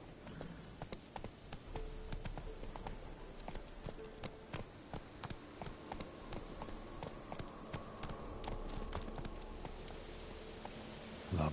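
Roach the horse trotting in Witcher 3, steady clip-clop hoofbeats at a brisk even rhythm, close and continuous over faint ambient insect buzzing.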